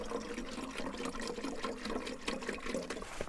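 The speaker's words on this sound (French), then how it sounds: "on va pouvoir remplir le réservoir avec de l'eau" Water pours into a tank for a hydrogen-making setup, a close, steady splashing and trickling that continues without pause.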